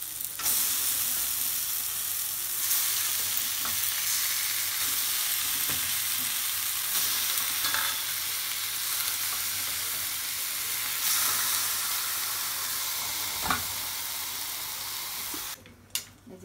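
Chicken frying in spiced masala in a pan gives a loud, continuous sizzle with steady hiss, broken by occasional stirring scrapes and knocks, close up and with no talk.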